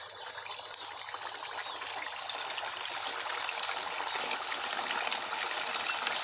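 Sabudana vada, patties of soaked tapioca pearls, frying in well-heated oil, giving a steady, dense bubbling sizzle that runs unbroken and fairly soft, with a few small pops and no talking.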